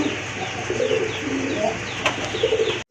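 Racer pigeons, a pair of grizzle birds, coo in soft, repeated low murmurs through a steady, noisy background that stays busy for nearly three seconds.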